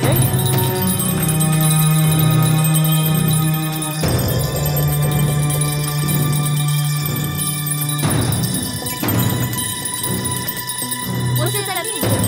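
A bell rings in a Shaolin kung fu action film scene, its sustained, shimmering tones struck anew every few seconds, loud and continuous with other sound layered underneath.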